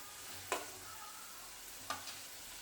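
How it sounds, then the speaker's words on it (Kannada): Crushed peeled garlic sizzles quietly in hot oil in a pan for egg curry, with two distinct scraping stirs of a spoon over a soft continuous frying hiss. "ಆ ಕಡೆ ಈ ಕಡೆ ಎಣ್ಣೆಲಿ ಹಂಗೆ ಮಿಕ್ಸ್ ಮಾಡ್ತಾ ಇರಬೇಕು"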